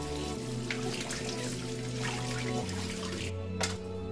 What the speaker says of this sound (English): Wash and rinse the bananas.